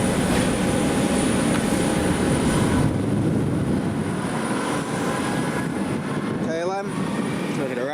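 KLM airliner engine roaring at Manchester Airport, a loud continuous broadband rumble and whine in cold outdoor air, with a swept whistling tone near the end; a voice chats faintly in the background.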